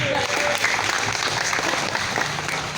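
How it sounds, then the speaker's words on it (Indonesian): Audience applause at an Indonesian Democratic Party political gathering, a dense steady wash of clapping from a sizable crowd, fairly loud and continuous throughout with faint voices mixed in. "Dari BEM Sumatera, tepuk tangan."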